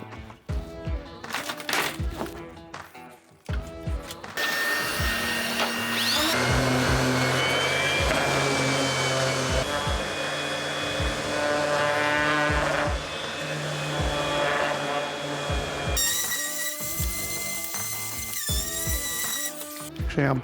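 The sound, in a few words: sanding wood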